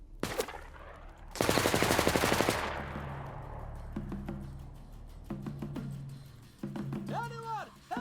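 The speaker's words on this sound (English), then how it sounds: "This is a 50 cal emplacement." A video game .50 cal machine gun emplacement fires a loud rapid burst of about a second, then echoing tails and tonal sounds, with talk around it.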